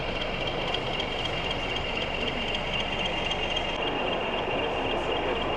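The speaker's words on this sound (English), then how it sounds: "Another loco coming past." A model railway locomotive runs past at a club exhibition, a steady continuous mechanical hum and rattle at moderate level throughout, with a busy hall murmur behind it and no clear talk.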